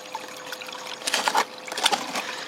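Water trickling and splashing through a gold panning sluice, a light continuous flow with a few louder gurgling bursts partway through, heard alone without voices.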